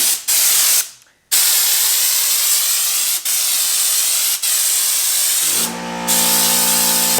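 Spray gun hissing out purple coating onto a Ford F-150, long continuous bursts broken by short pauses, loud and close, with a steady tonal hum entering near the end.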